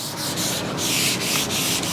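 Sandpaper rubs by hand across a wooden Shaker-style vanity in steady, even back-and-forth strokes, close and continuous, with no talking.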